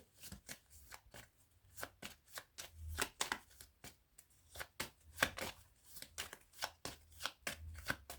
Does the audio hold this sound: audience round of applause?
no